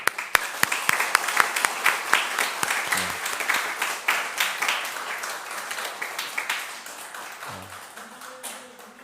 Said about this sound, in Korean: 우리 인사할 때에 크게 위로하고 격려의 박수를 보내겠습니다.